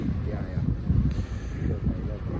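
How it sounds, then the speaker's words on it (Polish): Wind buffets the microphone on a warm, breezy mountainside near Ngong in Kenya, a low, rumbling gusty roar rising and falling throughout, close and fairly loud. "jest ciepło, ale wieje"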